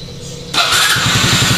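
A motorcycle that ran out of fuel and sputtered is started after carbon cleaning. After a brief quiet starter whine, the engine catches abruptly and settles into a loud, close, steady idle.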